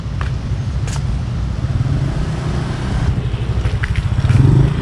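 A Honda Click 125i scooter rides around during a beginner lesson in Kapitolyo, its steady low engine drone continuing throughout and swelling near the end, with faint crackle on top.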